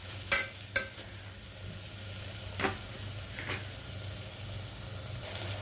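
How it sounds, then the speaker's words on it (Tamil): Vegetables sauté in oil in a pan for a vegetable brinji, a faint steady sizzle under a few sharp clinks and scrapes of a spoon stirring. "அதையும் ஒரு நிமிஷத்துக்கு நல்லா அப்படியே எண்ணெயோடவே வதங்கி வரட்டும். அது வரைக்கும் நல்லா அதை ஒரு பெரட்டி விட்டுக்கலாம்."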